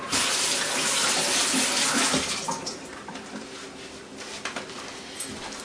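Tap water runs steadily into a sink while an organic, unwaxed apple is lightly washed under it. The splash is close and fairly loud at first, then turns lighter and patchier as the fruit moves through the stream.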